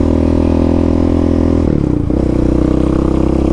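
A Yamaha Raptor 700 ATV fitted with a Dasa exhaust pipe, its big-piston engine droning loud and close at steady revs, with a brief dip and blip before settling back, no voices.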